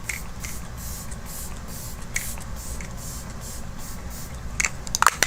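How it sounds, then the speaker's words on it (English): Makeup setting spray misted onto a face to seal in summer makeup, a steady soft hiss of fine mist running close and fairly quiet throughout, with a few small clicks near the end. "it doesn't even feel like you're spraying anything onto your face. The mist is so fine."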